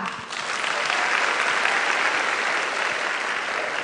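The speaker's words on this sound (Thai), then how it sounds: "ต้องขอเสียงปรบมือให้กับคุณออนอนงสิริวานิชค่ะ" Sustained, loud applause from a large audience at a Thai business television show, a dense even wash of clapping that holds steady without talk.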